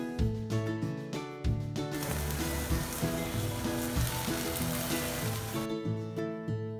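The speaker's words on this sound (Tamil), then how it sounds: "நம்ம ஃப்ரை பண்ணி எடுத்த சிக்கன் பீசஸ் எல்லாம் ஒரு டைம் தீயில் வச்சு சுட்டு எடுத்துடலாம்" Fried chicken pieces are charred over an open flame, giving a loud, continuous sizzle with a steady crackle and mechanical ticking layered over it.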